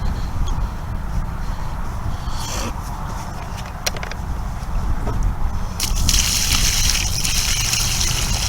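Water poured from a bucket onto planted, already saturated garden soil makes a steady splashing, sloshing gush close by, growing louder and brighter near the end as the pour continues.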